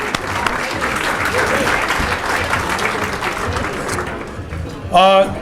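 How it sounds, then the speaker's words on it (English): Roughly 170 guests at a Scottish sports hall of fame induction dinner applaud in a dense, steady wave that thins toward the end, where a voice speaks briefly over the fading claps. "Give you all yourselves a round of applause, because this is a fantastic turnout."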